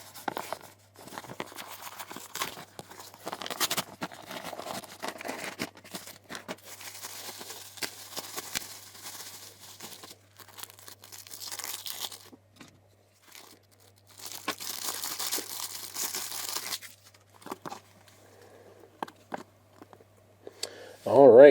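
A package holding a 1911 King George gold sovereign coin is ripped open, with repeated close tearing and crinkling of the wrapping in irregular bursts, pauses between, and a voice briefly heard.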